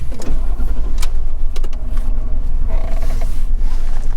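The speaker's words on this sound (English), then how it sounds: "So sometimes you can hear the blend doors." Blend doors inside the dashboard of a 2006 Lincoln Town Car Signature L long-wheelbase creak and tick as they shift, faint mechanical clicks and creaks over a steady cabin engine hum.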